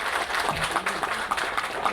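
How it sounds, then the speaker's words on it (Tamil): Applause from an audience welcoming a film director onto the stage at a speech event, a steady, dense patter of clapping filling the hall throughout with no distinct voices on top. "குரு திரு வெற்றிமாறன் அவர்களை வருக வருக வருக நல்ல பலத்த கரகோஷத்தோடு வருக வருக என்று வரவேற்கிறோம்."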